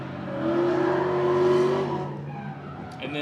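Drift cars revving at Lead Foot City, an engine rising in a sustained whining rev that peaks then drops away, followed by a brief squeal near the end, fairly loud and without talk.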